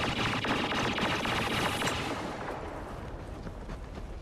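Rapid automatic blaster fire in Star Wars Battlefront rattles continuously and loudly through the first two seconds, then gives way to a quieter, steadier stream of shots.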